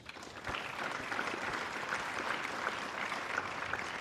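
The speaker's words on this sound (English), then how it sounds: "Our Attorney General and the Minister of Justice require a big applause." Conference audience in Freetown applauding the Attorney General and Minister of Justice at a Sierra Leone electoral national dialogue, a steady dense wash of many hands clapping that swells after a brief quiet start.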